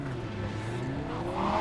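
A car in the video game Cyberpunk 2077 (patch 1.5) revs its engine and squeals its tires, a continuous rising engine drone with a tire screech that swells louder toward the end.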